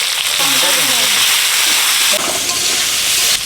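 Dried chillies and panch phoron hit hot oil in a pan with a loud, continuous hiss and sizzle close by, while a voice talks faintly underneath.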